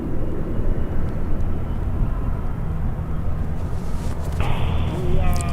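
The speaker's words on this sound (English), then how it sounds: "Looks like we have another departure." An airplane departs at Long Beach Airport, a broad steady engine roar heard from a distance that swells slightly toward the end, with faint radio chatter mixed in.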